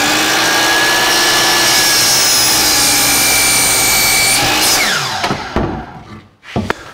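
A loud power saw whines steadily through a 2x4 lamination for a wooden gantry crane post, the blade tone dropping and spinning down near the end, followed by a few knocks.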